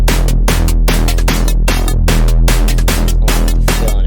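Dense electronic build-up loop with the background layers removed, leaving a steady pulsing pattern of loud, evenly spaced rhythmic hits that repeat continuously throughout.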